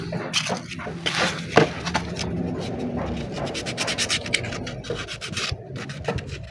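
A rag wiping and rubbing a Honda TMX 125 motorcycle part clean, with close, repeated scratchy strokes in an irregular rhythm, fairly quiet with a few sharper knocks.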